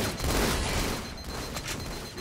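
Dense gunfire rattles through a Halo 2: Anniversary team doubles match on the Oracle map, a continuous loud barrage of overlapping shots with no one speaking.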